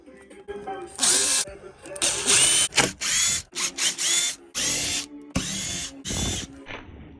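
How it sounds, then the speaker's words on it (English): Power sander working a resin table flat, loud buzzing bursts that start and stop repeatedly with short gaps between passes. "I'll just sand that flat"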